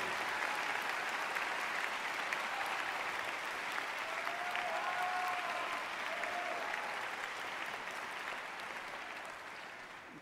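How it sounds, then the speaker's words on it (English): A high school graduation crowd gives sustained applause for the principal, a steady dense wash of clapping that holds for about ten seconds and fades slightly toward the end. "give applause to Dr. Johnson, because he has been a stellar principal"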